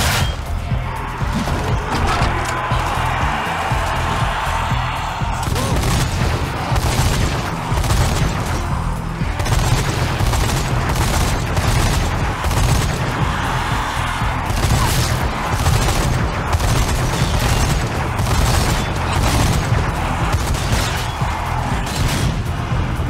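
Heavy machine gun firing in the zombie shooter Zombie Army 4, loud sustained bursts of rapid automatic shots with booming impacts, nearly continuous and dense throughout.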